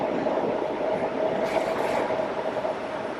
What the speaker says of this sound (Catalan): Els trens que arriben i marxen, els passatgers, tots diferents, amb les seves bosses, maletes i paquets.